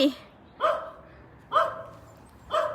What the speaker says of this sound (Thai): โอ้ มีหมา โอ้ลูกหมาเต็มเลย โอ้มีหมาลูก